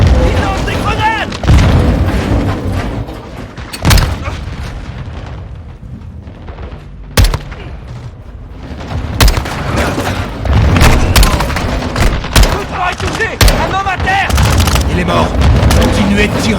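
Grenade explosions and bursts of gunfire come from a Call of Duty Modern Warfare 2 campaign battle, with loud, dense booms and repeated shots throughout. Voices shout over the combat.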